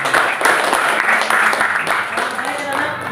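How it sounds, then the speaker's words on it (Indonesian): A classroom of students claps together for a classmate during a lesson, a busy, even patter of many hands mixed with children's voices. "Tepuk tangan dulu buat Mas."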